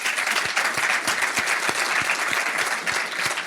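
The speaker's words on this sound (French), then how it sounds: "Tu vas entendre les gens t'applaudir." A public audience at the Cité de Laval applauds, a crowd's dense clapping with a few louder individual claps standing out near the microphone.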